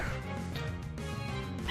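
Dog Pokémon battling in Pokémon Omega Ruby: synthetic, yapping game cries and bow-wow barks repeat over dense, continuous game music and battle sounds.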